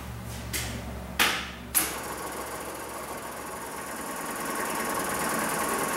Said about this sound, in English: All right, we can hear our fuel filters running.